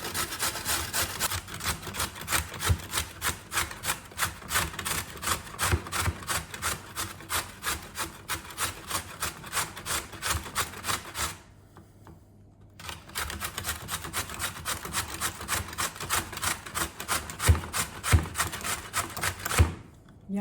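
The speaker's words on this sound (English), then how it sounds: "we're going to be grating these vegetables" Zucchini, butternut pumpkin and carrot scraped quickly against a grater, a steady run of close rasping strokes that stops briefly at the midpoint before resuming at the same brisk rhythm.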